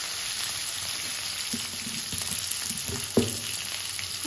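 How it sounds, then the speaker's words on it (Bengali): Okra fries in oil seasoned with turmeric and chili, giving a continuous close sizzle with occasional louder spits and the light scrape of stirring, no voices. "দিয়ে আমি ভালো করে ভেন্ডিটাকে ভাজিয়ে নেব"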